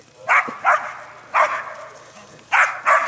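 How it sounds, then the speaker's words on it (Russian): A dog barks sharply four times in uneven pairs, close by, with quiet room noise and faint movement between the barks. "Собака."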